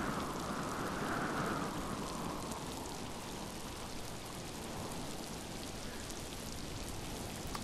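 Heavy rain in the video game Miasmata pours steadily, a dense, even hiss of downpour with no voices, holding constant from start to finish.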